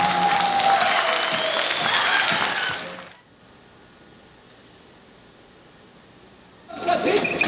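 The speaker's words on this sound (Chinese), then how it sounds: "掌声赞成。" An audience at a dance theatre performance claps loudly for about three seconds, then the applause cuts to near silence before a fresh burst of clapping starts at the end.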